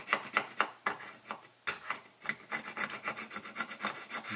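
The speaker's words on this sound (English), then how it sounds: "I'm going to go along here on this section here and just do a quick scrape off the top of that." A chisel scrapes across the top of a plastic model kit part for a Battlestar Galactica Viper Mark VII, giving close, repeated raspy strokes in a steady rhythm with no talking.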